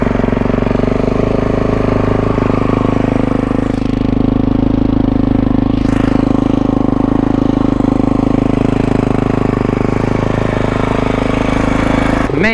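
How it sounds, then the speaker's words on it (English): A 2021 Kawasaki KX450X dirt bike engine runs at a steady, loud idle close by, with a continuous low rumble and faint mechanical clatter throughout and no talking. "let's start it up"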